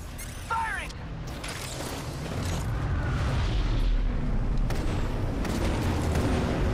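Gunfire and booming explosions in an Apex Legends match, loud bursts and rumbling impacts with a player talking over the action.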